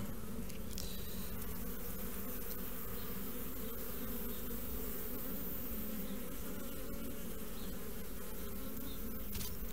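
Honeybees drone in a dense, steady buzz close by around an open hive frame during a queen-rearing nucleus check, the swarm sound continuous and fairly quiet with no voices.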